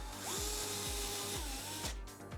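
A DeWalt gyroscopic power screwdriver with a 2.5 bit drives a screw into a custom 3D printer frame, giving a close, loud whirring motor whine in several short pulsing bursts that rise and fall in pitch as the screw tightens.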